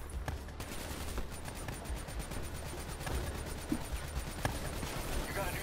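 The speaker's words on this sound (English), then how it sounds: "light everything up with this ridiculously overpowered machine gun" Rapid automatic fire from an overpowered machine gun in Black Ops 3 rattles in fast repeated bursts at moderate volume over a steady noisy backdrop, with occasional sharper cracks and talk underneath.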